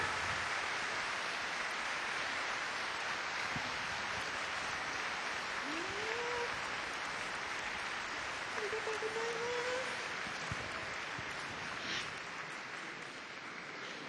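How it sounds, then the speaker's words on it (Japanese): A ceremony crowd in Niigata city applauds in a steady, fairly faint wash of clapping that goes on for the whole stretch, with only stray bits of sound on top. "もう一度皆さん盛大な拍手をお願いします。"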